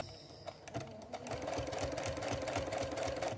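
A sewing machine stitching binding onto a quilt runs steadily and fairly quietly, its needle making a fast even rhythmic whir with no talk over it.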